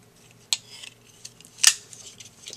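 Metal multi-tool utensils, among them a spoon, fork, can opener and knife, clink and snap as they are handled up close, with two sharp metallic clicks and a few lighter taps in quiet surroundings.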